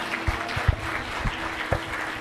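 A church congregation applauding, a few loud claps standing out over a soft spread of clapping, brief and moderately close, with a little crowd murmur.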